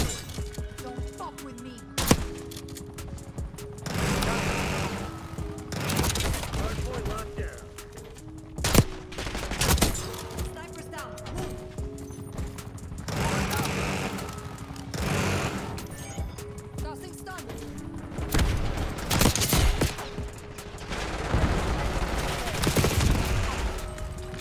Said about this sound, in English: Call the sentry gun in right here.